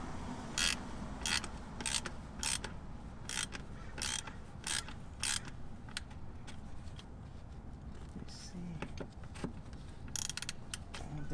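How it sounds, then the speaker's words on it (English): A ratchet fitted with a 10mm Allen socket loosens the transmission plug on a BMW's ZF 6HP19/21 gearbox, giving a close, steady run of sharp clicks with brief pauses between strokes. "It's a 10mm Allen socket, and it's not that tight, so you just loosen it a bit."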